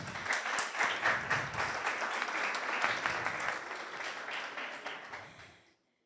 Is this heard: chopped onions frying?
no